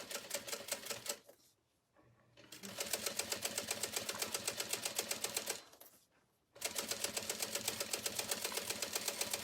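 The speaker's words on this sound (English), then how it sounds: "Just gonna sew along, nice and steady." Sewing machine stitching a canvas tote bag strap, its rapid needle clatter running in three steady stretches split by two short pauses, close and clear.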